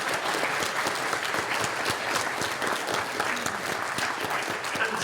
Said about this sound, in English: can you please give a round of applause to our lovely Comic Con volunteers here?